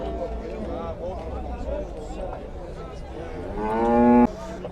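Cattle low at a busy livestock market, with several mooing calls through the clip and one loud drawn-out moo near the end, heard over people talking and market bustle.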